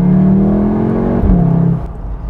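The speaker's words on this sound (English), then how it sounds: "we get this beautiful exhaust note" The 2022 Volkswagen Tiguan R's exhaust note drones loud and close inside the cabin, a steady engine hum rising slightly in pitch before a quick shift dip and a softer settle, with no talking.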